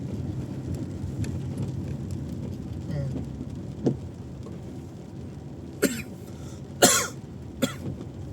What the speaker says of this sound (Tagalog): may ubo pa nga